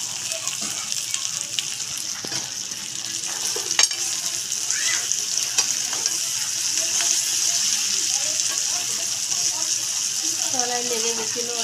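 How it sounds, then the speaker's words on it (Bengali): Fried potatoes added to mutton being cooked down in a pan, a loud continuous sizzle with stirring scrapes and clinks up close, a voice speaking briefly near the end. "আলুটা দিয়ে দিলাম, ভাজা আলুটা দিয়ে দিয়েছি,"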